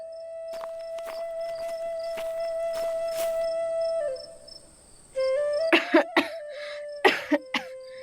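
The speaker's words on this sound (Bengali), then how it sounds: "আমার খুব কাশি হচ্ছে" A person coughs repeatedly in sharp, close bursts, with several quick coughs early on, a quiet gap, then louder clustered coughs, all set against a steady whistling tone in the background.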